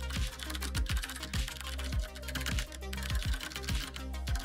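Rapid typing on a computer keyboard, heard close and alone. Key clicks come in a steady, busy stream with brief irregular pauses.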